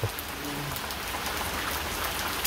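Steady rain falls in a dense, even patter on a surface nearby, alone with no voices, a continuous wash of drops.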